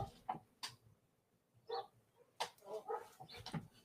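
Dogs being let outside, with faint scattered whimpers, yips and short barks coming at irregular intervals over a quiet background.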